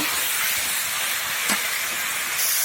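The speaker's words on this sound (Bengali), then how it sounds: "তো আমি এখন দিয়ে দিব ভিজে রাখা আলু পটল, দিয়ে সুন্দরভাবে 10-15 মিনিট নেড়ে চেড়ে নিব।" Soaked potatoes and pointed gourd go into a hot pan and are stirred. A loud, steady sizzling hiss fills the pan, with one brief scrape partway through and no voices.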